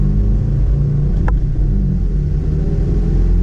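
A 2017 Subaru WRX fitted with a Boomba blow-off valve rumbles loudly from inside the cabin as it pulls under acceleration, a dense steady engine drone with one brief high whoosh partway through.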